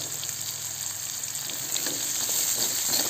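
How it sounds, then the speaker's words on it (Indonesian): Green chili, palm sugar and anchovies stir-fry in a pan in a rustic home kitchen, giving a steady, close, continuous sizzle that grows slightly louder toward the end, with no talking. "Kita tumis sampai semuanya harum"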